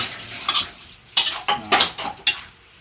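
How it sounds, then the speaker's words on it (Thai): Pork stir-fried with oyster sauce in a pan over high heat, a spatula scraping and clanking against the metal in several sharp bursts with faint sizzling between. "ใส่ซอสหอยลงไป ผัดไฟแห้งมันจะแบบเลิศ"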